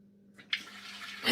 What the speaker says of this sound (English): The faucet turning on full blast by itself is a classic sign of high-level poltergeist activity.